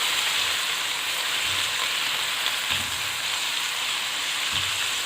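Small chicken pieces fry in a pan of browned onions, giving a steady, even sizzle with soft crackle and a few faint low bumps, continuous and alone with no voices.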